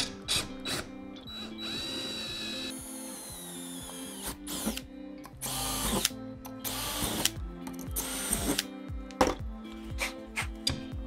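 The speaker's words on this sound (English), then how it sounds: "So let's drill these holes and then get some hardware in there." A power drill bores holes for mounting a Pelican case roof rack, with bursts of high whining drilling separated by pauses, clicks and handling clatter, close and fairly loud with no talk.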